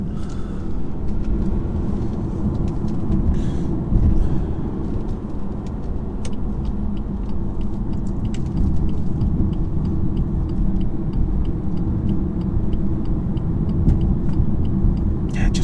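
Steady engine and road rumble from a 2018 BMW 430d coupe on the move, a continuous low drone that holds even and loud throughout with no talking.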